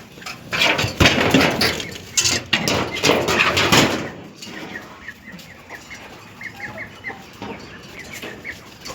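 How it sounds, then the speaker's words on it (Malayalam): Chickens, a mix of fancy and local breeds on a farm, cluck loudly and repeatedly up close, busy and overlapping at first, then softer scattered clucks and calls continue. "അത്യാവശ്യം കുറച്ച് ഫാൻസി കോഴിയുണ്ട്, നാടൻ കോഴിയുണ്ട്"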